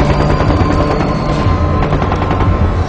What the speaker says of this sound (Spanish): Y entonces empiezan los primeros disparos.